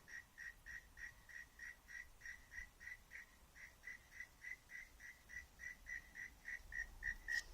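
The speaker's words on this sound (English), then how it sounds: "I think that's a frog or something making a noise." A frog croaks in a steady, evenly spaced series of short calls, faint and somewhat distant over a quiet, low background hum.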